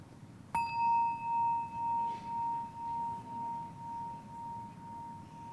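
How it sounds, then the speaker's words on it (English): A single struck mindfulness bell, used to quiet schoolchildren, rings out with a clear bright tone and a long, slowly fading sustain that keeps pulsing gently as it decays, with no other sound nearby. "That's we call the mindfulness bell."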